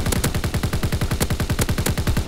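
Sustained machine gun fire in a war video game, a rapid regular stream of loud close shots rattling without a break.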